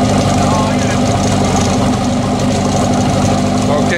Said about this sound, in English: Team Trojan now has the starboard engine running in the vat successfully